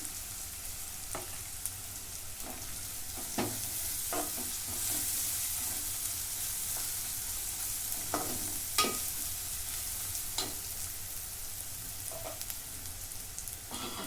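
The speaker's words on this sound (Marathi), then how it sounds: "कांदा चांगला भाजून घेतला त्याच्यात आलं लसूणची पेस्ट टाकून घेते" Onion with ginger garlic paste being sautéed in a pan for chicken biryani, a continuous hiss of frying beneath intermittent spatula scrapes and taps, close and without talk.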